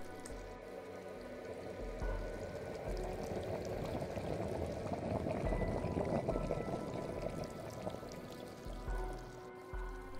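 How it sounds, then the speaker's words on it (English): A kettle of water heats on a stove in the video game Little Kite, giving a steady, fairly loud rushing and bubbling hiss that holds for the whole stretch with no talk. "drop it on the stove, and we're going to boil our water"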